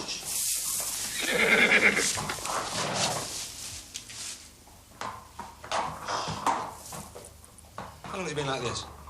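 A horse whinnies loudly near the start amid stable sounds, with hoof clops and a dog barking, while people talk over much of it.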